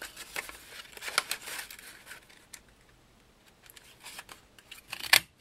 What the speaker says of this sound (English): For the Fiskars punch, I kind of look at the back of it when I'm pressing so I can see where it's lining up